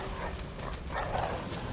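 Dogs in Bloodborne growl and bark amid a dense, rumbling game soundscape, rough yelps rising briefly near the middle over steady background noise.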